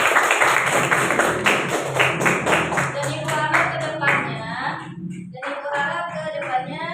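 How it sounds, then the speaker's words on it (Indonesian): Children in an Indonesian classroom clap their hands together in quick, fairly even claps close by, which soon give way to someone speaking warmly to them. "Sekali lagi tepuk tangan untuk kalian."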